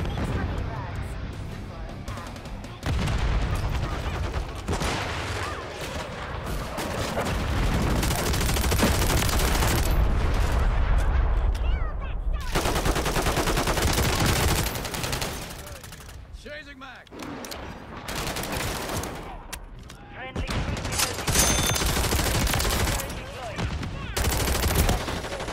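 Bursts of automatic gunfire and single shots from Call of Duty Modern Warfare III team deathmatch on the Scrapyard map, loud and dense, dropping away in brief lulls, with someone talking over the shooting.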